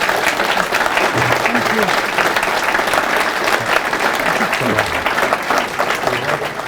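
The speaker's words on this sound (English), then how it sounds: "Round of applause, please, for Ken Middleditch" A crowd at a speedway club gathering applauds a rider, the clapping dense and steady from start to finish with voices murmuring underneath.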